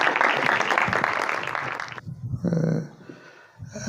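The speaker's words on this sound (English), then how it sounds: "with a big round of applause" Audience applause welcoming a speaker to the stage at an architecture talk, a dense burst of clapping for about two seconds that cuts off abruptly, followed by brief quieter room sounds.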